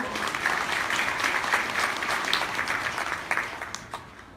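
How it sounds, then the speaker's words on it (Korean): A lecture audience gives warm applause welcoming a guest speaker, a steady wash of clapping that stays even across the whole stretch and tapers slightly near the end. "우리 정승일 박사님 뜨거운 박수로 환영해 주십시오"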